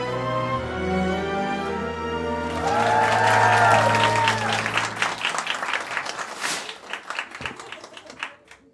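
Audience applause and clapping at a Polish stand-up comedy show, starting under music and swelling into a dense, loud burst of many hands that thins into scattered claps toward the end.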